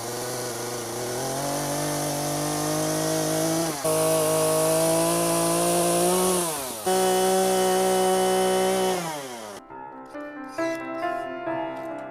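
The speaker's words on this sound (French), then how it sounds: "on va prendre la tronçonneuse et on va la couper ici" A chainsaw runs loud and steady, its pitch dipping and surging as it bites into a branch of a plane mulberry tree during pruning, then drops to a rough, sputtering idle near the end.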